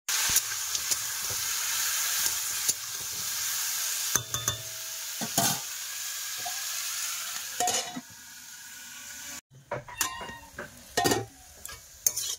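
Steady hissing sizzle of vegetables stir-frying in a pan with salt and turmeric, broken by repeated clattering scrapes of stirring and a brief lull before more stirring.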